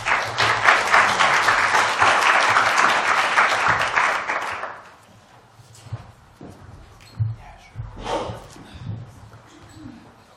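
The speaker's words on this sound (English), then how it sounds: "And a round of applause." A conference audience bursts into loud, sustained clapping that lasts about five seconds and then fades out. After it dies away, scattered faint shuffling and a few small noises follow in the room.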